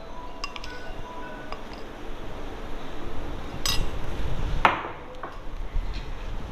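Spices and salt for monkey fruit pickle being mixed in a dish, with scattered close clinks and taps of a spoon against the bowl over a soft rustling stir, one sharper clink standing out.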